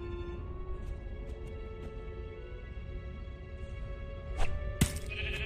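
Sheep bleating in the video game Minecraft: Story Mode, a few faint short bleats over a steady soft musical drone, with a sharp bright sound near the end.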